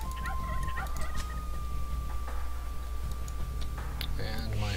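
Turkeys gobble in Age of Empires II, game-style fowl calls heard over a steady background drone, with faint voices and a sustained tone underneath.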